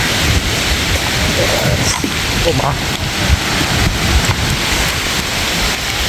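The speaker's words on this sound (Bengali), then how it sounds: "এখনও ঝড় চলছে" Cyclone Remal's storm sweeps through a mango orchard in Rajshahi, with heavy rain and gusting wind making a loud, constant roar and rumbling wind buffeting close to the microphone throughout.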